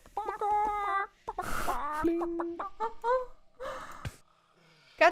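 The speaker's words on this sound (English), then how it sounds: "Chicken." A video game chicken clucking in a series of short, bright, pitched clucks and squawks, broken by brief pauses and a breathy gasp-like sound, fairly close and clear.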